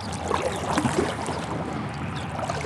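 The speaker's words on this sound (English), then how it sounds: "I'm gonna keep paddling downstream." Paddle strokes and water sloshing around a small boat moving downstream on a river, steady wash with wind buffeting the microphone and no voices.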